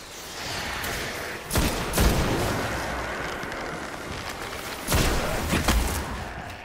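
Gunfire in the Destiny beta, a sustained rumble of distant shots with two heavier booming bursts, continuous and mid-loud with no talk over it.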